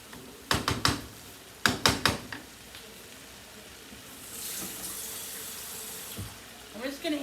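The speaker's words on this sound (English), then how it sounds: "I'm just going to add just a little bit more water, guys, because I think the rice has to cook a little bit" Water poured into a pan of cooking rice for homemade chicken hibachi rice: a few sharp clanks come first, then a soft, steady stream of running water runs for a couple of seconds before fading into quieter kitchen noise.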